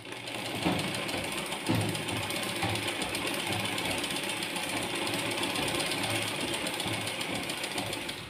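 A sewing machine stitches an aari-work blouse with a steady, close mechanical rattle and whir that runs without a break and at an even level the whole time.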